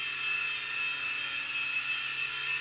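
A Blade mCX toy radio-controlled helicopter flying indoors, its tiny rotors and motor producing a steady high-pitched whine with a constant tone, close and continuous for the whole stretch, with no voices.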